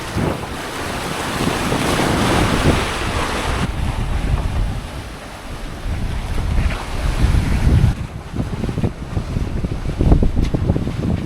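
A sailboat moving under sail at about 7.5 knots, with steady wind buffeting the microphone and waves rushing and splashing along the hull throughout, loud and continuous with no talk.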